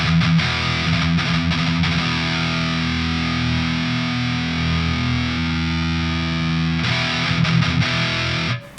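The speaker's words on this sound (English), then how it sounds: "So if you listen to the distortion" A Master Effects Marauder distortion pedal on a Schecter Banshee Mach 7 guitar, set low, gives thick, saturated, sustained distorted chords that ring loud and steady, alone for almost nine seconds before cutting off.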